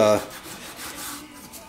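Soft, uneven rubbing strokes of 320 grit sandpaper by hand on rough aluminum, following a brief clipped voice at the start, with a few repeated passes close by.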